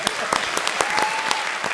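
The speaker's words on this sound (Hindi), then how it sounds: "एक बार जोरदार तालियां" Studio audience applause breaks out on the Comedy Circus comedy show, brisk clapping from many hands with a few sharp, louder claps standing out near the front.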